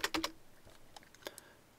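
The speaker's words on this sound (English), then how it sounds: "I'm going to type in -20." Values are typed on a computer keyboard: a quick cluster of three or four crisp key clicks, then a few softer, scattered taps. Close and quiet, with no talking.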